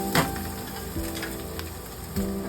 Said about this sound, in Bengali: সামান্য ফ্রাই করে নিয়ে